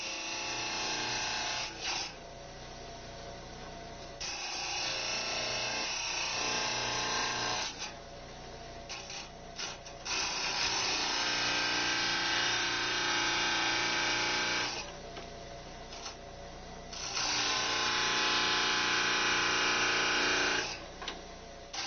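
A diamond grinding wheel running at about 1725 to 1800 rpm grinds jasper and agate stones, a steady whirring grind that swells and drops in long passes as each stone is pressed to the wheel and lifted away.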